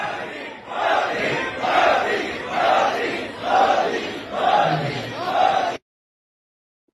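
A rally crowd chants 'Modi, Modi' in loud, rhythmic waves, six swelling repetitions roughly a second apart, before cutting to silence.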